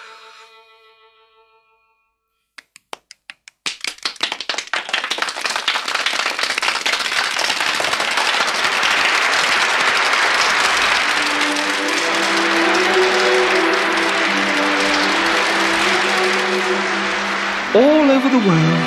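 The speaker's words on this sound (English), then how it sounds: "All over the world, children clapped" Many children clapping their hands together, starting with a few scattered claps after a near-silent pause, then swelling into continuous loud applause, with a narrating voice over the clapping near the end.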